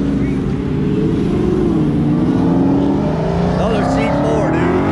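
Two Dodge Demon cars drive past at a street car show on Woodward Avenue, a steady loud engine drone with rising revs that stays close throughout, while people talk over it.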